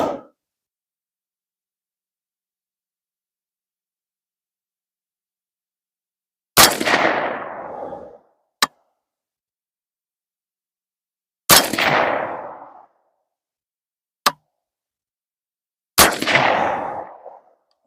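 Three loud rifle shots fired outdoors with a CVLife 2-7x32 scope and CVLife bipod, each a sharp crack with a short ringing decay, spaced several seconds apart, with a faint distant clank after the first two.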